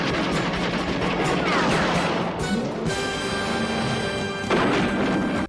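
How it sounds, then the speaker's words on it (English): A dubbed automatic machine-gun effect over a Mini 14 rifle in a 1983 TV action show, loud sustained bursts of rapid gunfire with booming impacts layered with music. "On screen, it sounded like a full-blown machine gun, non-stop rat-a-ta-ta-ta"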